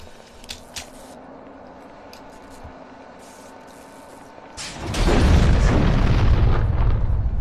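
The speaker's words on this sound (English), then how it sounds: "More random explosions." Random explosions burst out in The Thing video game, a loud broadband blast erupting around five seconds and rumbling on to the end, after a quieter stretch of low ambient game noise with a few faint pops.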